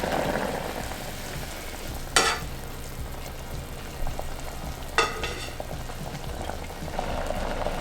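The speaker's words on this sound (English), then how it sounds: "putting it into a boiling saucepan." Instant ramen noodles cooking in a boiling saucepan, a quiet continuous bubbling and sizzling with a low rumble underneath, broken by two brief clattering knocks, no voices.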